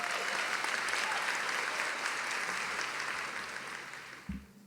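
Sustained audience applause at a university commencement ceremony welcoming the dean, a broad steady wash of clapping from a large crowd that slowly thins and fades out at the end.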